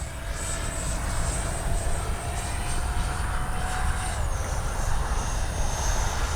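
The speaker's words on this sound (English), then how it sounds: "Gear is down and ready to land." An XFLY F-35 radio-controlled jet comes in to land with its gear down, a steady whining engine roar holding at an even level throughout, no voices.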